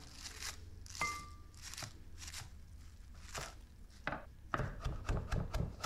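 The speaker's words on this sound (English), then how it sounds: "Chop up some cilantro." A knife chops fresh cilantro on a board close up, making several crisp, irregular cuts followed by a quicker run of rhythmic chops at the end, quiet and alone without talk.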